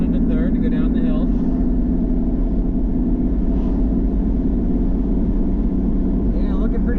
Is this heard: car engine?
yes